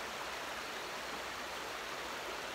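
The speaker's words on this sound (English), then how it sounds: "I sense that in the sound of the river." Steady, continuous rush of flowing river water at Ogmore, even and unbroken throughout, with no voices.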